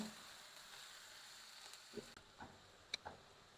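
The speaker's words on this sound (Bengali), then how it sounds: "পেঁয়াজটা ভেজে নিই" Onions fry quietly in a pan while a spicy desi chicken curry is being cooked, giving a soft, continuous sizzle. A few sharp clinks of a utensil against the pan stand out near the end.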